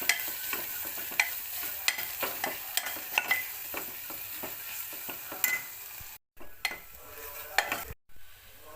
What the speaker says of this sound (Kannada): ಪೆಪ್ಪರ್ ಸ್ವಲ್ಪ ಹಾಕಿ ಈಗ ಫ್ರೈ ಮಾಡ್ತಾಯಿದ್ದೀನಿ